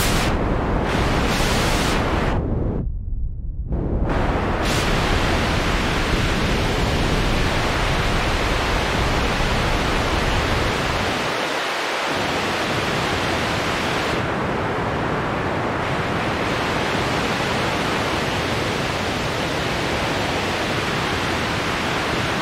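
Heavy rain is imitated with filtered white noise, a dense steady hiss that fills the whole clip with brief dips and filter sweeps changing its tone, loud and unbroken, no voices.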